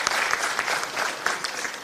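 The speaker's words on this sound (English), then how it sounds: "A big round of applause for the panelists." Applause from a symposium audience after an anti-corruption panel on elections, dense steady clapping from many hands filling the room, fairly loud and continuous.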